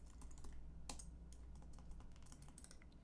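Rapid typing on a computer keyboard, entering a word into a program, with irregular clustered keystrokes and one sharper clack, close and steady over a low room hum with no talk.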